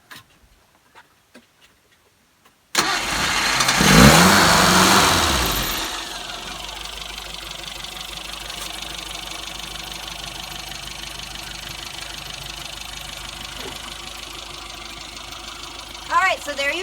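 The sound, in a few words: Classic Mini car engine starting and idling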